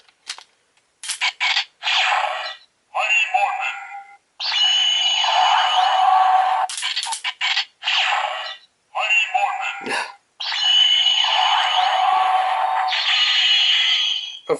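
A Power Rangers Super Megaforce legendary key toy plays its Mighty Morphin sound sequence, loud electronic bursts of tones and effects in several separate segments with brief gaps, close to the microphone.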